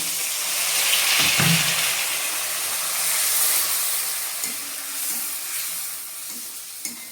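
A pan-fried spice paste of ginger, cumin and turmeric for a Bengali fish curry, with water added to the powdered spices. It gives a steady, close sizzling hiss with occasional stirring knocks, and no voices.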